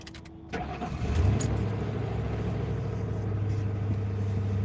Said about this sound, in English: That's a P-71 police interceptor purring, man.